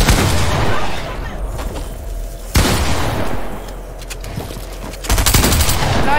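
Gunfire from a shooting video game comes in three bursts of rapid shots, loud and close, with a voice talking between them.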